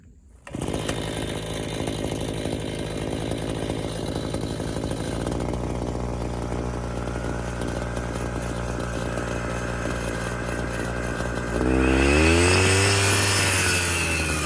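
Grass cutter engine running steadily after a blade change in a garden, a loud, close, buzzing two-stroke drone that holds constant and then rises in pitch and volume near the end as it revs up.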